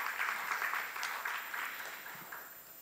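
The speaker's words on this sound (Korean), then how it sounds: "다시 한번 큰 박수 부탁드립니다" Audience at an academic seminar on martial arts applauding a professor after her presentation, a moderate, fairly distant patter of clapping that slowly fades.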